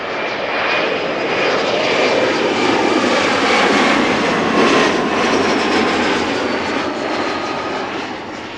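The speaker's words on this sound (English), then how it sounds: "Embraer 175 arriving from Nice." Embraer 175 jet landing at Amsterdam Schiphol after a flight from Nice, its engines a loud, steady roar that swells and holds close by throughout with no voices.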